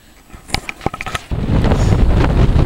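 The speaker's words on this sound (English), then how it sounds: "Well, it's a little bit windy today" Wind buffets the microphone on a Nova Scotia beach: a few scattered clicks and knocks at first, then a loud, continuous low rumble of gusts.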